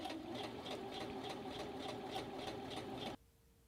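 A sewing machine runs a steady regular stitch along a fold, attaching it to a front fly zipper; the close, even whir with a fast rhythmic pulse holds for about three seconds, then stops abruptly.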